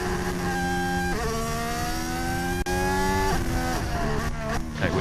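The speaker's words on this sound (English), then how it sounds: "here's a safety car with cars weaving behind it" Formula 1 cars idle slowly behind a safety car at the 2021 Abu Dhabi Grand Prix, steady buzzing engine drone with rising pitch as one car accelerates, fairly close.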